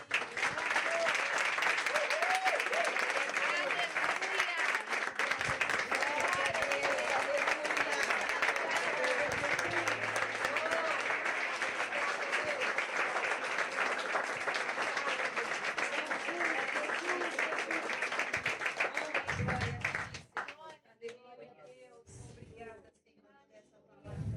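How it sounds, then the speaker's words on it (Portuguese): A church congregation applauds during a family worship service, a loud sustained crowd of clapping that carries on for about twenty seconds, then thins and fades as a voice takes over near the end. "Você pode aplaudir o Senhor?"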